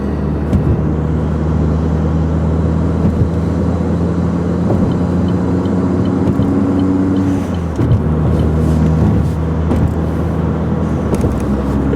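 Car driving on a commute to work, with a steady engine hum and rising drone as it picks up speed, road noise continuous and fairly loud throughout, no voices heard.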